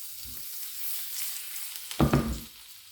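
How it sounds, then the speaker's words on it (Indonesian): Garlic and rosemary frying in a pan for shrimp garlic pasta, a steady sizzle with a sharp louder burst of crackling about two-thirds through. "Ini langsung bawang putih sama rosemary ya."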